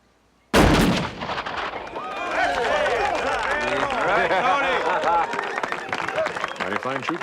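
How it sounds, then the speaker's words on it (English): Rapid gunfire at a frontier shooting contest, a dense string of sharp reports starting abruptly and carrying on with echoing cracks and scattered voices behind. "Mighty fine shooting, son, but not good enough."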